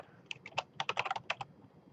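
Quick keyboard typing to enter a Minecraft command: a short flurry of close, light key clicks clustered in the middle, otherwise quiet.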